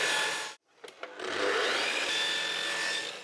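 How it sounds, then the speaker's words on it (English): Wooden tray miters cut by saw, a steady close rasping cut that briefly stops and then resumes, no voices. "Well, that's now all the miters cut."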